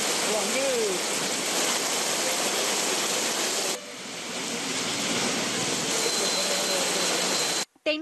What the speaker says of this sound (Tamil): தென்காசி மாவட்டத்தில் பெய்யும் மழையால் குற்றால அருவிகளில் வெள்ளப்பெருக்கு ஏற்பட்டுள்ளது